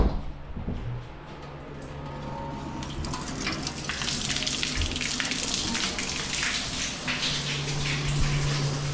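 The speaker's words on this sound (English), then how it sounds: "I'm gonna turn on the water in the milk room" Water gushing steadily from a tap in a dairy barn milk room, starting with a few handling knocks and then a continuous, splashing rush that builds slightly over time.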